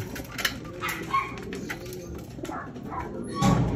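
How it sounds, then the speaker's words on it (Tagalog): Racing pigeons coo softly amid rustling and pecking, with a low hum of surroundings and a brief flutter near the end. "Ngayon na tayo patukan ng ibon. Yung mga kalapati natin."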